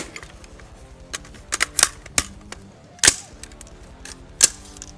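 AR-15 rifle shots ring out while zeroing at a range: about half a dozen sharp, irregularly spaced cracks, moderately loud, over a faint background.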